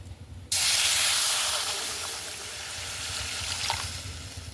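Water poured into a hot pan of lightly fried lentils for a fish-head vegetable dal sets off a sudden, loud sizzling hiss that starts abruptly, then slowly fades while staying steady, with no talking.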